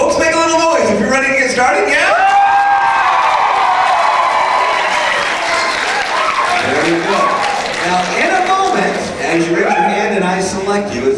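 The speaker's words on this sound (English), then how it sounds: "make sure you keep that applause going" A high-school senior party crowd at a hypnotist show cheers and applauds steadily, loud and sustained throughout, with whoops and a host's voice talking over the clapping.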